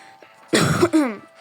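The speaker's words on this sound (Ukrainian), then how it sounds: "Вибачайте, що буду так кашляти" A single close throat-clearing cough, a harsh rasping burst followed by a short voiced rumble, with quiet surroundings before and after.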